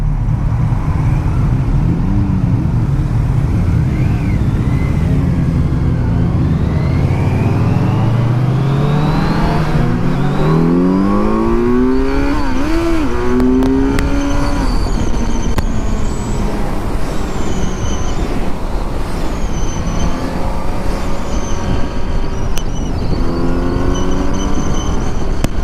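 A Yamaha MT-10 motorcycle pulls away while being ridden, its engine climbing through the gears in long rising sweeps, loud and close over steady wind rush, with no talking.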